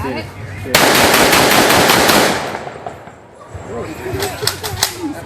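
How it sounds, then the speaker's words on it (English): A Browning automatic rifle firing .30-06 cartridges at a Memorial Day demonstration: one loud, close sustained burst of rapid automatic fire that cuts off sharply. After a short lull, several sharper shots or echoes follow, and a voice talks faintly underneath. "Browning automatic rifle"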